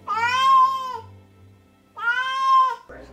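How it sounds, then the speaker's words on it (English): A jealous domestic cat yowls twice, long drawn-out rising and falling cries separated by a short pause, loud and close with no talking. "She yowls to voice her displeasure."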